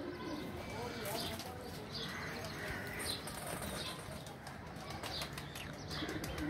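Racing pigeon landing at a Lahore loft, wings flapping amid continuous bird chirps and coos, with people talking over the busy outdoor ambience.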